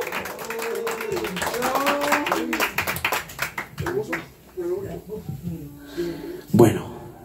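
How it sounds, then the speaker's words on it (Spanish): An audience at a mariachi birthday celebration claps, with a busy stretch of claps under loud talk and music. It thins to scattered claps and ends with one louder burst near the end. "Y fuerte el aplauso, claro que sí,"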